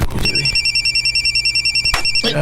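A cellphone rings loudly with a steady electronic trill that pulses evenly for about two seconds. A brief clatter is heard at the start and another near the end.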